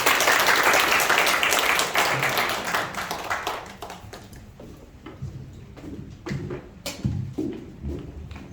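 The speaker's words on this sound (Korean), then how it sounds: "박수 쳐주세요" Applause from a crowd, loud at first then thinning into scattered claps that fade out over several seconds.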